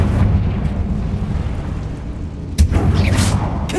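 Confringo blasting spell in Hogwarts Legacy bursts as a loud booming explosion, a rumbling low roar that swells sharply near the end with a second crackling blast.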